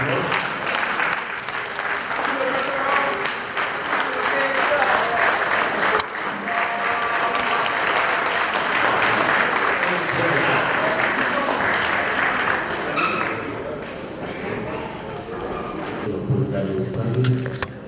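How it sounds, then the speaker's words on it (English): A large audience at a Federal University Lokoja campus welcome address gives a long, vigorous round of applause, a loud, dense wash of clapping lasting nearly eighteen seconds, with voices audible underneath and the clapping thinning slightly toward the end. "A very big round of applause."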